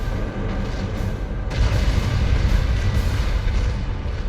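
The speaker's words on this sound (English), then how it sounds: "Fire all weapons." Spaceship weapons fire in the Warhammer 40,000 game Battlefleet Gothic: Armada, a heavy, sustained rumble of booming cannon blasts with repeated sharp volleys breaking through, loud and continuous.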